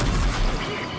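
A grenade explodes in the video game RAGE 2, a short, heavy, low rumbling blast with broad noisy debris that lingers briefly at steady loudness.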